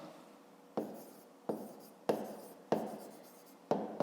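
A pen writes by hand in a notebook during a fifth-grade maths exercise, giving five separate scratchy strokes at a quiet close distance, each starting sharply and fading, with near silence between them.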